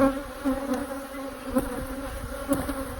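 Honeybees buzz close around a beekeeper in a protective suit, a steady droning hum with individual insects zipping near and away, fairly loud and continuous with no talk.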